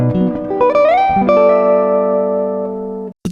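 A jazz guitar line from a solo: a quick run of picked notes sliding up into a long held note that rings clearly and alone before cutting off.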